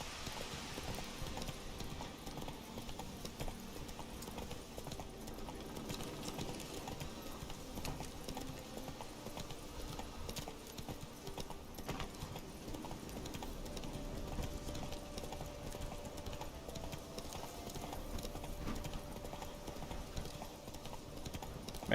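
Hooves of Roach, the horse in The Witcher 3 video game, clip-clop in a steady, continuous gallop for the whole stretch, close and even, layered over soft game music with no talking.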